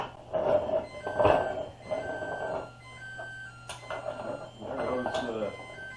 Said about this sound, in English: There goes the time to cook the bread alarm